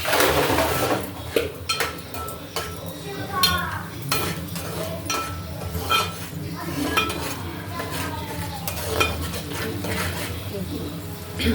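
Onion paste stirred in a pan, with repeated scraping and clinking of a spoon against metal over a soft sizzle. The strokes come in an irregular, steady rhythm close by, and a voice talks now and then.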